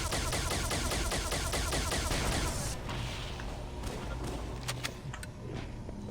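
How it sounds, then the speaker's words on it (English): Dense, continuous automatic gunfire from Halo CE fighting Flood in the Library level with Ruby's Rebalanced Mod, loud for the first three seconds, then thinning into scattered shots and impacts over steady game noise. "I just shot the rocket flood there before he could even fire."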